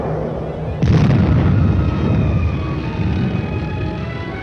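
Artillery fire exploding on enemy positions during an armored combat engagement: one loud, sudden blast followed by a sustained rumbling roar that slowly fades, with no voices.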